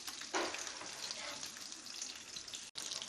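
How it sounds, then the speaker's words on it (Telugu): Telangana-style fish curry (pulusu) boiling in a pot, a steady, dense bubbling hiss with a louder burst near the start, close and continuous with a brief dropout near the end. "ఇలా పులుసు మరుగుతుంది, బబుల్స్ వస్తున్నాయి కదా"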